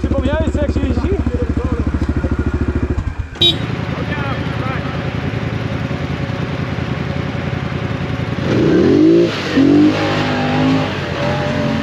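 A small ATV engine runs loudly up close, cuts briefly, then revs again in uneven bursts while people talk and shout nearby.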